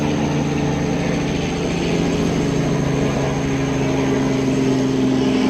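Constant droning thrum of a helicopter flying overhead, loud and unbroken for several seconds, with no voices.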